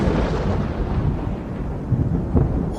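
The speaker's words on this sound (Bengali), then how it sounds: "এদিকে বারবার বিদ্যুৎ চমকাতে আরম্ভ করলো।" Thunder in a cartoon rainstorm: a deep, continuous rolling rumble, loud and close, swelling slightly toward the end with no voices.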